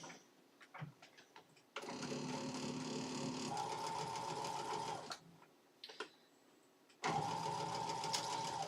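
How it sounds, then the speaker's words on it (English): A sewing machine stitches cut fabric pieces back together in close, steady mechanical bursts of rapid whirring and ticking, broken by short pauses between seams. "We're just slicing them up and sewing them back up together."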